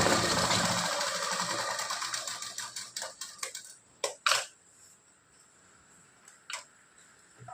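A sewing machine stitches a second seam alongside the first on a blouse with four tucks, a fast close whirr that slows and fades, then gives way to a few separate clicks and clacks.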